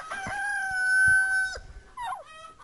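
A rooster crows nearby in a backyard while beehive frames are being built, one long loud cock-a-doodle-doo lasting about a second and a half, followed by a shorter, rougher call, with no talk over it.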